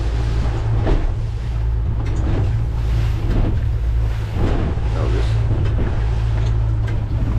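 Small boat pounding through choppy water in strong wind, with continuous engine rumble, wind buffeting the microphone and repeated splashing thumps from the waves, loud and close.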